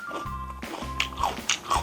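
Crisp crunching and biting of kohlrabi kkakdugi, Korean cubed radish-style kimchi, chewed close up in a few short bursts against a low steady hum.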